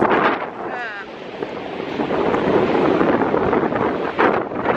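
Strong wind roars and buffets the microphone continuously, with rumbling gusts and a brief whistling tone early on.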